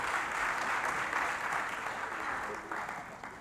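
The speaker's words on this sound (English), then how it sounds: "Give Dr. Black another hand clap of praise this afternoon." Audience applause of praise at an annual lectureship event, a crowd clapping steadily and fairly loudly for a few seconds, gradually tapering toward the end.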